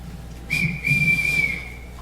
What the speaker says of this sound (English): Everybody answers to a whistle.